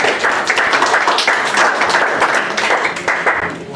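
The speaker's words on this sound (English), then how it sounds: "A better round of applause." Audience applause at an international school ceremony, a dense steady wash of many hands clapping close by throughout, with faint voices underneath.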